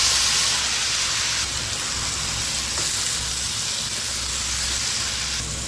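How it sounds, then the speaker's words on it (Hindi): Bohar bhaji greens hit a hot tempering pan that already holds tomato, turmeric and salt, giving a loud, steady sizzle and hiss that fills the whole stretch with no talking. "तो अब इला छौंक देते हैं"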